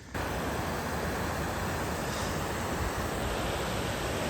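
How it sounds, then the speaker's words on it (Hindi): Swirling water forming a whirlpool, a steady dense rush of churning water close to the microphone, continuous and loud with no voices. "ये वर्लपूल बन रहा है"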